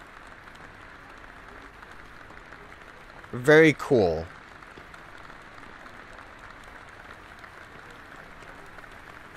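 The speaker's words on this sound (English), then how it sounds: "Oh, everyone's applauding me again." A crowd applauds in the game Detention, a short burst of clapping of about a second against a steady low background hum, with a voice speaking briefly.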